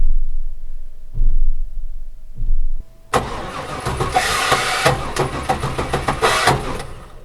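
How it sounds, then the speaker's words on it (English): A faulty starter on a Chevy van grinds harshly as the engine is cranked, loud and close, after a few brief quieter clunks, with the rough churning continuing for several seconds and no talking. "You can hear the starter making some pretty awful noises."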